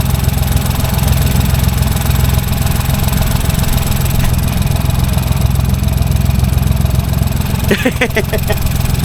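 A Ford 1.0 EcoBoost engine with a failed wet-belt head gasket runs on its first start, a steady low idling drone with loose rattles near the end, loud and close, with no talk over it.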